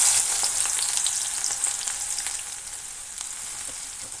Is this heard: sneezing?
no